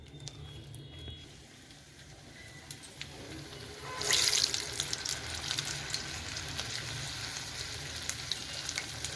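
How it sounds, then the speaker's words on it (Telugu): Onion vadas made from onions, green chilies and vada batter fry in hot oil, giving a soft steady sizzle that swells louder around the middle, with faint clinks and background noise. "ఆనియన్ వడ వేస్తున్నానండి."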